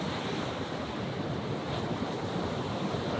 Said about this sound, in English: The waves are crashing more and more against these rocks.